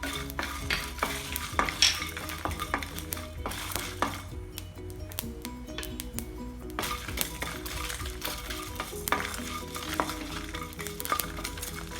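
Bay leaf, cinnamon, cloves and cashews fry in a kadai with a steady close sizzle, while a spatula keeps scraping and clinking against the metal pan, and nobody speaks.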